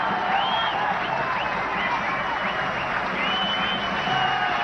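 A cricket crowd at a 1997 Singer Akai Cup match between Sri Lanka and Pakistan applauds and cheers Aravinda de Silva's fifty, sustained clapping with whistles and shouts filling the ground.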